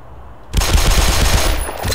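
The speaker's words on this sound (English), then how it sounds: "Oh, you can really shoot this as fast as you want." A gun in the video game Black Mesa fires in a sudden loud burst of rapid, continuous shots after a brief quiet start.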